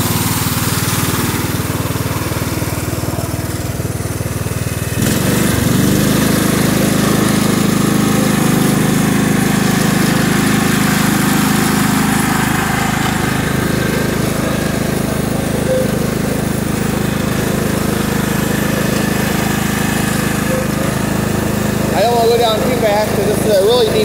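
Cub Cadet HDS 2135 riding mower engine running steadily and loud throughout, with a droning hum that steps up in intensity after a few seconds while being driven outdoors.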